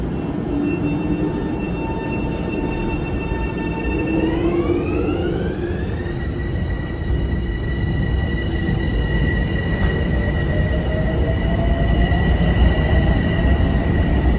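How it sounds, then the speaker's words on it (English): Metro-North M7A electric train cars at Harlem 125th Street station give off a steady loud rumble with rising, gliding motor whine tones, heard up close between the cars without talk. "See if I can get an echo here between these M7A cars."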